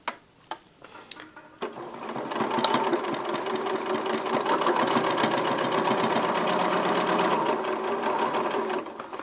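Domestic sewing machine stitching a folded hem seam runs steadily and loud for several seconds, preceded by a few clicks and handling taps at the start.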